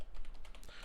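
Quick, close clicks of keys on a computer keyboard as a command is typed into a terminal, a short burst of fairly even keystrokes with no speech.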